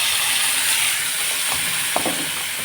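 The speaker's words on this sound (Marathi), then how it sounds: "मोहरी छान तडतडली की ह्याच्यामध्ये आपण आता वाटण घालून घेत आहे" Ground masala paste sizzles in plenty of hot oil with crackled mustard seeds for a paneer curry, giving a steady loud hiss with a few sharp pops and spits near the end and no voices.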